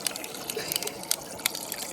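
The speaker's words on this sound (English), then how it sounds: "So she's filling up this fucking measuring cup." Cold tap water runs into a measuring cup, a steady faint hiss of flowing, splashing liquid with small clicks and bumps scattered through it.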